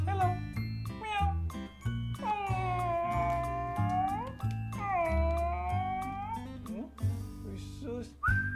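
A cat meows repeatedly in a home during a visit with XL American Bully puppies, drawn-out pitched calls rising and falling close by, mixed with a person's voice and faint jingling.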